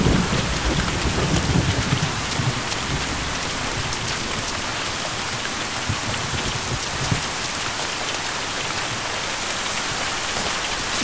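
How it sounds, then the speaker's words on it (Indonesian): Heavy hailstorm with pounding rain and thunder, a dense, steady roar of downpour and hail striking surfaces throughout, with deeper rumbling swells of thunder near the start. "Mungkin hujan akan reda. Hujan badai biasanya tidak lama."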